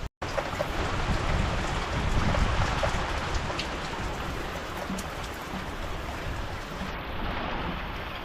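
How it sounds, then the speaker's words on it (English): Torrential rain pours steadily over a camping tent on a cold February thaw, a dense continuous hiss and patter close by with no voices, the downpour holding at full strength throughout. "The downpour was torrential."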